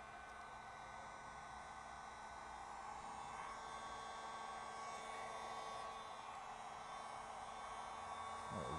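Heat gun blowing a steady, loud hot-air roar while heating vinyl wrap on a Tesla Model 3 rear quarter panel, continuous and unbroken throughout with no talk.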